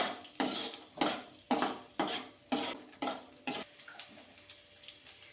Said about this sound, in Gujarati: હવે આ સિંગદાણા છે એ આપણે એમાં નાખી દઈએ। 2 મિનિટ સાતરીએ એટલે સતરાઈ જાય।